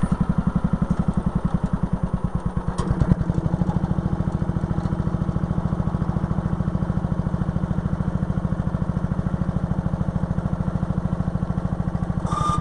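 Old firetruck flatbed engine running close by, with a loud pulsing idle that shifts partway through into a steadier, busier running drone.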